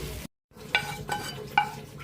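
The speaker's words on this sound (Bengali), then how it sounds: "এখন অ্যাড করে দিচ্ছি পোলার চাউল এবং সবজিগুলোকে এখন একসাথে মিক্স করে নেড়ে দিচ্ছি" Rice and vegetables for fried rice are stirred together in a hot pan: a low sizzle underlies several sharp metallic spatula scrapes and clinks, after a brief gap of silence near the start.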